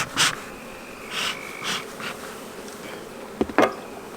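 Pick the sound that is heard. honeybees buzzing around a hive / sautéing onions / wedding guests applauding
honeybees buzzing around a hive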